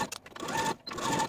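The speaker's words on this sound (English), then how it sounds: "Now go to your sewing machine and sew your binding to the armhole with a 1/4 inch seam allowance." A home sewing machine stitching fabric binding onto a blouse armhole with a quarter-inch seam, whirring in two short bursts separated by a brief pause, close and moderately loud with no talking.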